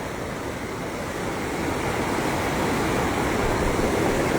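The flood-swollen Kalsia stream, a ravine channel in Haldwani–Kathgodam, rushes past damaged houses. Its water roars as a loud, continuous torrent, steady and close, building slightly over the few seconds, with no speech.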